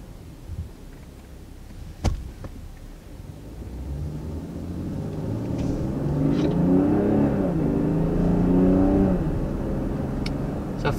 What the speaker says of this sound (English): So first taking off in the BMW X7, I have to say, definitely is impressive how it takes off.